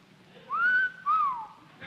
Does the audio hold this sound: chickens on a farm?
no